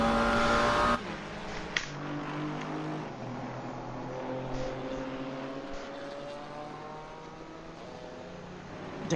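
Onboard engine of a GT4 race car lapping Watkins Glen in a racing video game: a steady, close engine drone whose harmonic pitch climbs and falls through gear changes for the whole stretch, with no talking.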